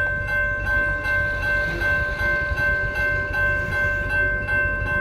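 An Amtrak passenger train, the 515 out of West Springfield, rumbles past close by with a steady roar, sustained tonal ringing and faint rhythmic wheel clatter throughout, no voices.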